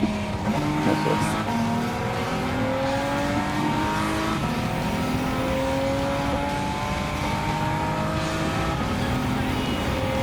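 A 1991 Mitsubishi GTO Twin Turbo in Gran Turismo 7 on Willow Springs streets drones loudly and continuously, its engine pitch rising and falling through gear changes, with occasional tire noise.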